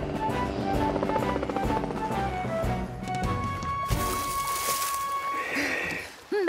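A rescue helicopter in an animated firefighter cartoon gives a rhythmic rotor chop under music, then fades as a brighter whooshing sound swells.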